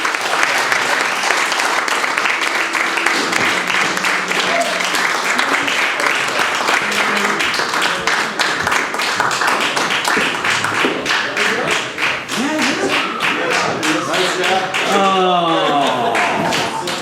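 A crowd applauds after a live music set at Ziggy's: dense, continuous clapping fills the whole stretch at a steady loud level, with a few scattered voices mixed in.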